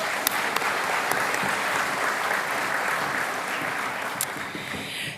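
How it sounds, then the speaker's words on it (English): A large audience at a women's awards ceremony gives award recipients a sustained round of applause, an even, dense patter that tails off at the end. "Let's give them another round of applause."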